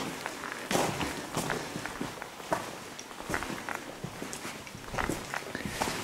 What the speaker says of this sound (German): Ihr hört jetzt ein paar Schritte mehr hinter mir.